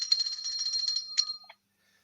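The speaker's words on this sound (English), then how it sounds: "He got a bell." A small bell serving as a quiz buzzer rings in a quick bright trill of repeated strikes, then one more ding and a fading tap, clear and close in an otherwise quiet room.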